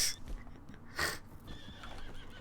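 A horse in the Red Dead Redemption 2 video game whinnies loudly up close in a couple of shrill bursts, with faint hoof and tack sounds after, and no talking.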